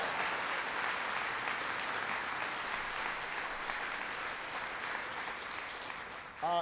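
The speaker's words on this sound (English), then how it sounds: "I want to give them a big round of applause." Sustained applause from an audience at a speech by President Obama about the 2013 budget, a steady dense clatter of clapping filling the room for several seconds without talk.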